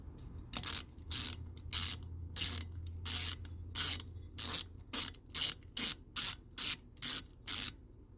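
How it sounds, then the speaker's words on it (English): Ratchet wrench with a 1/4 inch socket driving screws on a Delco-Remy 10-SI alternator being rebuilt for a 1972 Corvette, a close series of about fifteen crisp clicking bursts in a steady rhythm, with no talk. "those also go on with a 1/4 inch wrench, a 1/4 inch socket"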